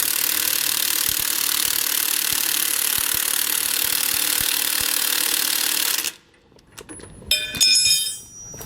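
A power tool tightens the shock bolts during a Roadmaster rear anti-sway bar install on a 2019 Coachmen Pursuit motorhome, a loud steady whirring for six seconds that cuts off, followed by a few metallic clicks and clanks.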